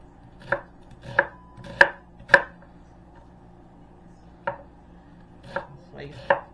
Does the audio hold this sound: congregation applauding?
no